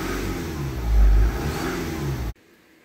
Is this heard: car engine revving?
yes